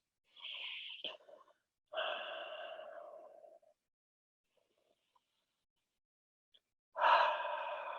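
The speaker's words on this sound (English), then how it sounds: "Let's take 2 breaths." Slow breathing during a Pilates stretch, with two long, close, airy inhale-exhale sounds separated by near silence, and a third breath starting at the end.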